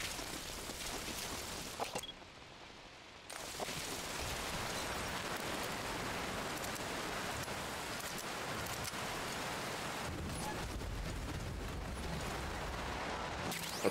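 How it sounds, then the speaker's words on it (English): Heavy, relentless rain in the stealth video game Metal Gear Solid V: Ground Zeroes, a dense continuous hiss of downpour that briefly drops in level before surging back, with no talk over it. "That rain just won't let up."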